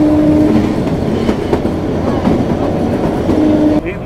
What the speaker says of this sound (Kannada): ಇದು ನಮ್ಮ ಟ್ರೈನಿನ 3ನೇ ಕ್ರಾಸಿಂಗು ಜುಟೋಕ್ ಸ್ಟೇಷನ್ ಹತ್ರ